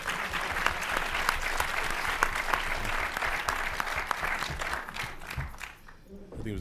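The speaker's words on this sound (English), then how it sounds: "Give him another round of applause." Audience applause at a panel event on race, criminal justice and artistic expression: sustained, fairly distant clapping from a crowd that thins out and fades toward the end.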